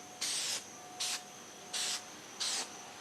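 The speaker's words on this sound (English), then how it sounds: "Don't stay spraying too far, too long on it." Four short hissing bursts from a black spray paint can, evenly spaced, close by, with quiet pauses between them.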